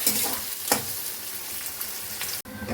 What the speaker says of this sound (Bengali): পেঁয়াজটা এবার দিয়ে দিলাম পেঁয়াজটাকে একদম লাল করে ভেজে নিতে হবে